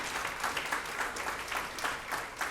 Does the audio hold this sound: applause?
yes